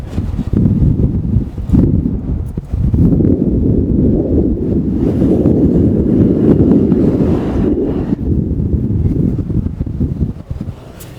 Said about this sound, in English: Look at this wind. It is absolutely insane. You can't stand upright.